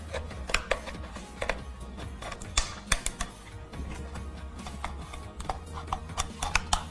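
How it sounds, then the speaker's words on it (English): Scissors cut through the base of a plastic bottle, giving a close run of crisp, irregular snips and crackles over a low background hum. "So grab a pair of scissors, and you start cutting from the base, right about here."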